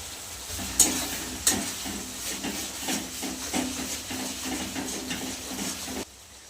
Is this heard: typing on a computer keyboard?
no